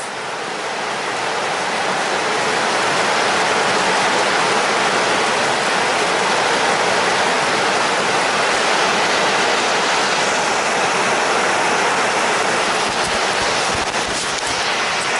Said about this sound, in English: it's pouring. Like it is pouring.